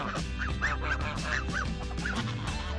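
Adult geese honk repeatedly as they approach, loud and close, with overlapping calls over steady farmyard background noise.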